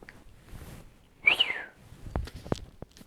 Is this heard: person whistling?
yes